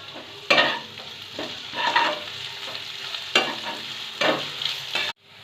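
Garlic and chopped onion fry in a pan with nigella seeds, under a low continuous sizzle broken by several distinct stirring scrapes of a spatula. The sound is close and has no speech.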